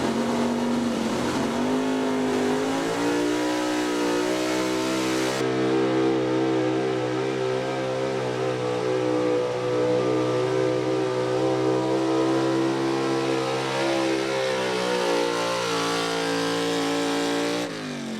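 A big block 4x4 truck roars down a drag strip, its engine revving hard in a long continuous scream with rising and steady harmonic tones, loud and close for the whole run, with no voices over it.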